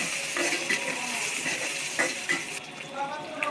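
Bitter gourd pieces tumble into a hot frying pan with onion and green chillies, a steady sizzle of frying with stirring and light utensil clinks, close and continuous throughout.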